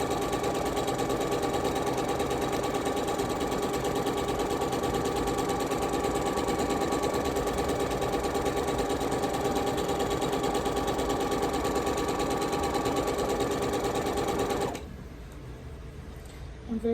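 A sewing machine runs at a steady, fast, even hum for about fifteen seconds, close and loud, then stops abruptly, leaving near-silence at the end.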